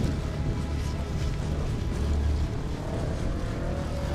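A motorcycle engine drones steadily while the rider holds a freestyle wheelie on the rear wheel, a continuous mid-distance rumble with no voices over it.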